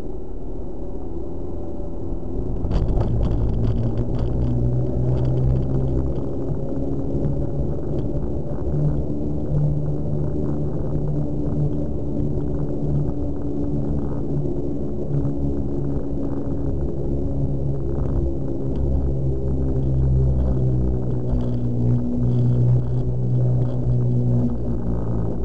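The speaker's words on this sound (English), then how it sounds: "Hopefully you'll be able to hear the sound the tires make going on the steel gird." Car tires rolling over the steel grid deck of the suspension bridge to Wheeling Island, a continuous low humming rumble heard from inside the car, steady and fairly loud for over twenty seconds with no talking.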